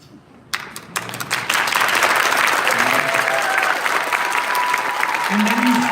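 Applause breaks out at a fifth grade band concert, beginning with a few scattered claps and swelling within about a second into steady, dense clapping from the whole audience, with voices underneath.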